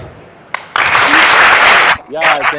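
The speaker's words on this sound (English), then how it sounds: "You can hear the applause" Loud, dense clapping from a crowd fills the middle of the clip, starting abruptly and fading out as a voice begins talking.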